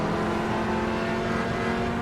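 A race car accelerates down a straight in the Automobilista 2 racing game, its engine a steady, loud droning whine held at a high pitch without breaks.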